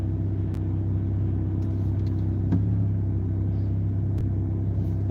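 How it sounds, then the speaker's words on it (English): A car idles and creeps in a traffic jam with its transmission failing to shift, giving a steady close low engine rumble with a few faint clicks on top. "I'm waiting for this transmission to shift. It's not shifting."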